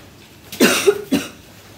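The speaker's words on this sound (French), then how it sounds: "J'ai l'écharpe qui me fait tousser là." Two short, close coughs from one person, the second a little after the first, with quiet in between.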